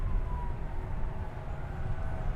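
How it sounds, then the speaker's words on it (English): Distant sirens wail near DFW Airport, a faint sustained tone drifting over a low rumble of airport and engine noise. "I'm also hearing sirens"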